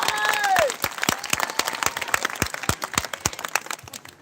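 Crowd applause at a Navratri festival folk stage event in a Chhattisgarh village, loud and dense at first, then thinning into scattered sharp claps with brief voice fragments over it.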